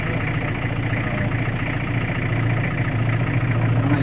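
A vehicle engine idles steadily during a wildlife safari stop near bison, a close, constant low throbbing rumble that continues unbroken, with no talking over it.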